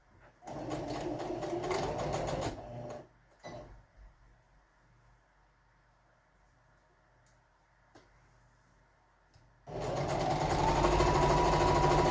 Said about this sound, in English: I'll go ahead and stitch off our double hem